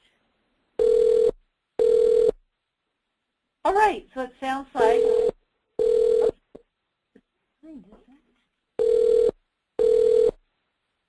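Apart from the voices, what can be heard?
telephone ringing during a video call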